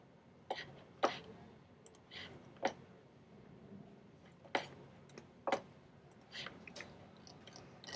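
Sharp, isolated computer mouse clicks on a desk, about eight irregularly spaced, close and fairly quiet over a faint room background.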